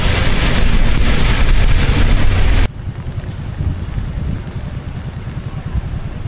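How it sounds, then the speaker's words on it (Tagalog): Strong wind during the rainy season buffets the microphone in loud, roaring gusts that stop abruptly, leaving a quieter low rumble of wind outdoors where flooding has begun. "Hangin dito."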